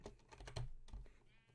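Sheep bleating in the Minecraft video game, a short quavering bleat heard close and faint, mixed with rapid computer keyboard clicking.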